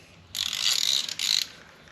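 A ratchet clicks in two quick bursts while tightening a bolt on a KTM 1290 Super Adventure motorcycle oil pan, close and crisp with a short pause between strokes.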